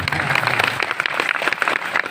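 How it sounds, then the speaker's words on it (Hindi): An audience at a saints' gathering in Amarkantak breaks into steady, dense applause, a continuous wash of many hands clapping at once, fairly loud and close, with faint voices beneath. "ताली बजा दूंगा एक बार"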